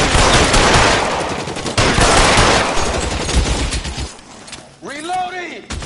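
Dense, rapid automatic gunfire from an L.A. Noire shootout, loud and sustained for about four seconds before easing off, after which a voice speaks.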